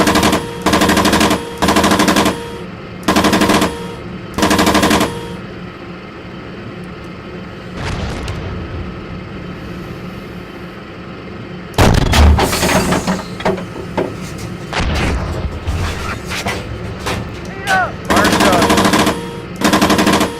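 Sustained machine-gun bursts and gunshots in the Steel Beasts tank simulation, loud repeated volleys with a rumbling lull in the middle before heavy firing resumes, no voices.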